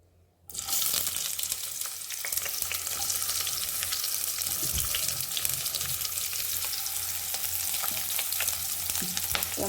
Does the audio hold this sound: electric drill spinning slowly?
no